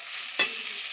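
Egg and soybean curry masala sautéing in a pan gives a steady close sizzle, with one sharp scrape or clatter of stirring near the middle and no talk.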